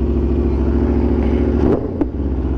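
A 2023 Aprilia RSV4 Factory motorcycle, 1100 cc, fitted with an SC Project exhaust, idles loud and close with a deep, even rumble and a couple of short sharp blips near the end.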